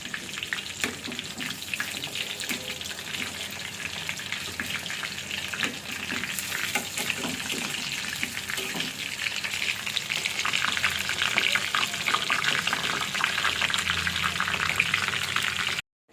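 Marinated chicken pieces fry in a pan, a loud, steady sizzle that crackles throughout and swells slightly louder near the end before cutting off abruptly, with no voices.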